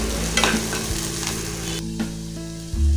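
Chopped onions sizzle and fry in a pan while being stirred for a peanut tomato chutney, a steady close frying hiss with occasional clinks of a spoon, no talking.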